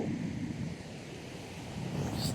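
Rough sea surf breaking on the Mullaitivu shore after a storm, a steady broad wash of waves with wind noise over the microphone, fairly loud and continuous with no voices.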